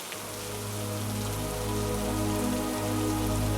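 Steady rain pours down continuously, a dense, even hiss of drops on surfaces that grows slightly louder over a few seconds, with a low hum underneath and no voices.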